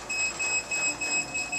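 A vibration plate workout machine beeps after its start button is pressed, giving four evenly spaced, moderately loud electronic tones in a steady pulsing pattern.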